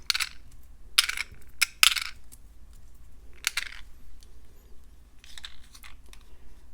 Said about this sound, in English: Let me put them in this dish.